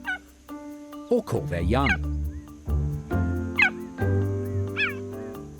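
Cheetah chirping: a series of short, high, bird-like chirps, some rising in pitch, spaced irregularly at moderate loudness while a narrator speaks over them.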